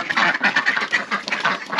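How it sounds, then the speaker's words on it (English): Several ducks, including Cayugas and mallards, quack in quick, overlapping bursts, close by and fairly loud, with no talking. "Letting out the ducks this morning."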